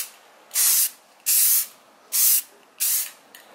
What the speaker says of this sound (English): You go ahead and apply your clear coat.